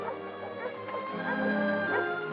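Army dogs newly arrived in a reception kennel for sentry training bark, whimper and yip continuously at close range, overlapping in a busy, echoing chorus.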